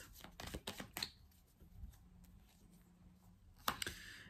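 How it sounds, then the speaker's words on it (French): Tarot-style cards laid out for a reading: close soft slaps and rustles of cards, clustered in the first second with a sharper snap near the end, faint and quiet between. "on va recouvrir quelques cartes."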